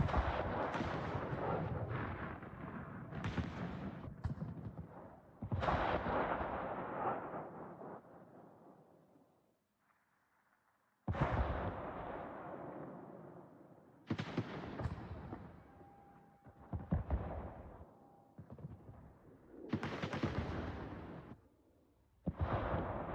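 Warship main guns in World of Warships fire in loud, booming salvos, each blast followed by a long rumbling decay, with a quiet gap midway before the heavy volleys resume in quick succession.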